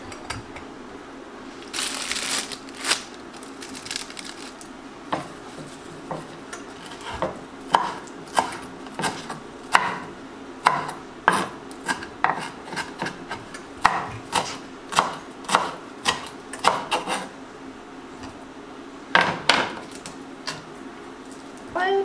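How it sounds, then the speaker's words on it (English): A knife roughly chops fresh cilantro for a coleslaw dressing, giving steady, close, crisp thuds on a cutting board that come in quick runs with short pauses. "this coleslaw, just some cilantro. And we're just going to do a quick rough chop on this."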